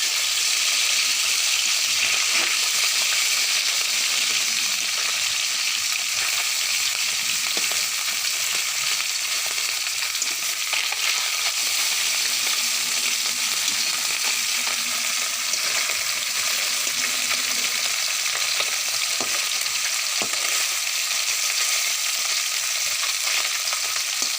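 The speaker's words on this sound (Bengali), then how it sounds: "মাছগুলো বেজে নিতেছি এখন মাছগুলো আমি উল্টিয়ে দেব" Tengra fish fry in hot oil with a steady, bright sizzle that holds throughout, broken by faint scrapes and small pops.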